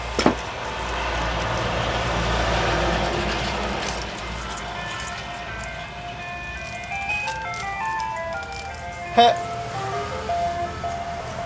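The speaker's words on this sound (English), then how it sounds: "Ice cream truck just drove by." An ice cream truck passes by, its tinkling melody of repeated tune notes rising clearly over steady road and vehicle rumble, with a sharp knock near the start and another clack later.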